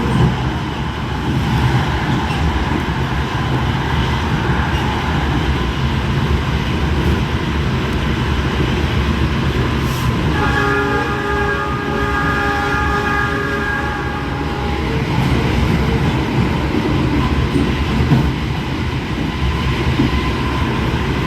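A KA Argo Bromo Anggrek train rolls along the rails with a continuous loud rumble and clatter. A sustained multi-tone horn sounds for several seconds midway through.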